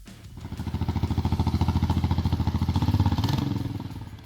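Suzuki Boulevard S40 (LS650) single-cylinder cruiser motorcycle engine running close by, a steady loud thumping idle-to-rev pulse with a fast even rhythm, swelling slightly and easing off, with no talk.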